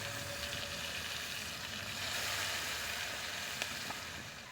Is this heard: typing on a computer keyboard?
no